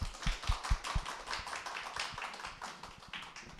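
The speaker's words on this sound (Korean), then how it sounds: "강사님 올라오실 때 뜨거운 박수로 부탁드립니다." Warm audience applause welcoming a lecturer to the stage at a business seminar, opening with a few sharp, close claps before settling into a softer, steady patter of many hands.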